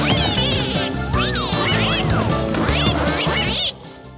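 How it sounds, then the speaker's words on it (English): Cartoon ducks quack loudly in a rapid, overlapping series of nasal calls over bright background music, ending abruptly near the close. "Let's give a warm round of quacks for the Daredevil Ducks!"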